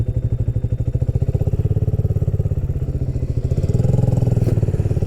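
A motorcycle engine thrums close by with a steady, pulsing idle that rises slightly as the bike pulls away on a ride out in Portugal, loud and continuous with no talking.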